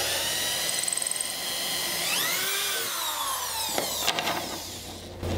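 An electric drill bores a hole through a drilling jig while building a table with hairpin-style legs; the motor whines and shifts pitch as the bit bites, followed by a few knocks and clatters near the end.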